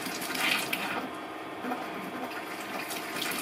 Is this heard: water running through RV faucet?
yes